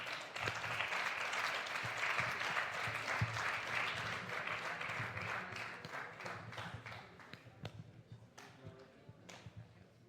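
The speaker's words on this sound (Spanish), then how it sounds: "Así que le damos un fuerte aplauso," Audience applause at a Spanish-language technology event, full at first and thinning into scattered individual claps toward the end, recorded fairly quietly with faint talk underneath.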